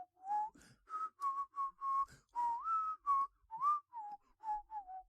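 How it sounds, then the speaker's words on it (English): A man whistles a Disney tune by drawing air inward, a string of short, clear, breathy notes that step up and down in pitch with brief gaps between them, heard alone and close. "his newly mastered technique of inward whistling"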